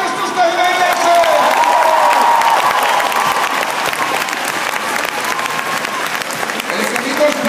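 An audience at a stadium horse show claps and cheers loudly for a rider, dense continuous applause with whoops mixed in and an announcer's voice talking over it.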